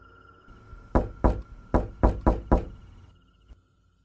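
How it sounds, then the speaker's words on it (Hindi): Knocking on a door at night: six firm, evenly spaced knocks ring out close and loud, then a faint single tap follows before silence. "फिर दूसरी दस्तक हुई।"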